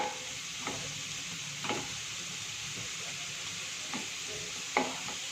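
Potatoes frying in a pan with chili powder give a steady soft sizzle, broken by a few brief scraping stirs at irregular intervals.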